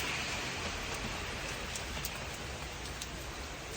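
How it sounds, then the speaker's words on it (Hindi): Heavy rain pours steadily in the UK, a dense, continuous hiss of downpour close by with scattered louder drop hits and no voices. "ये देखें कितनी ज़बरदस्त बारिश हो रही है।"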